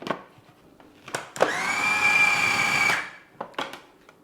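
Food processor whirring through fresh mince for Austrian Leberkäse, a steady motor drone for about a second and a half between short clicks and clatters, with no talk.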